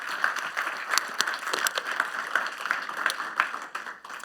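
A church congregation gives applause to the Lord during a sermon, a fairly faint, scattered clapping with distinct individual claps at an uneven pace that thins out toward the end.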